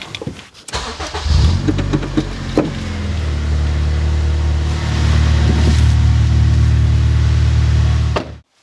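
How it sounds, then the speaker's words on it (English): A car engine idles steadily after an oil change, starting with a short burst then settling into a loud, continuous close-up hum that runs for several seconds before cutting off abruptly at the end. "so I had the car running for 5 minutes"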